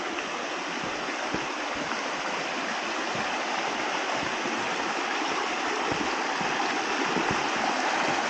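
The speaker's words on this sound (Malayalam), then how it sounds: "വെള്ളം ഒഴുകുന്നാന്ന് തോന്നുന്നു. കേട്ടോ, വെള്ളം ഒഴുകിയിട്ട് മണ്ണൊലിച്ചു പോകുന്നു." A forest stream near Pattathippara waterfalls rushes steadily, washing away soil, a dense continuous wash of flowing water that stays loud and even throughout with no voices.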